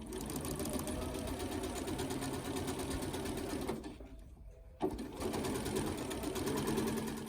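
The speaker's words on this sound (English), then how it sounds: "you just sew a 1/4 inch seam right along" A sewing machine stitches a quarter-inch seam through quilt fabric in a steady, fast, close mechanical whir, pausing briefly once before running on.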